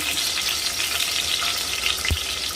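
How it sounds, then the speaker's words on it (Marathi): Eggs fry in hot oil for an Afghani egg curry, giving a continuous bright sizzle and crackle with one sharp pop near the end, close and fairly loud with no voices. "आता मी या साईडला तेल तापत ठेवलेलं आहे, त्यामध्ये मी ही अंडी सोडून देणार आहे"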